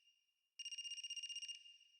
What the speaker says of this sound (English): There's a phone. Is that a phone ringing?